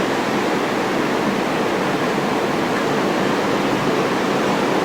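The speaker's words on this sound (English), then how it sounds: "Just hear the waves." Ocean waves roll near a quiet seaside deck out of season, a loud, continuous broadband wash of surf with no voices over it.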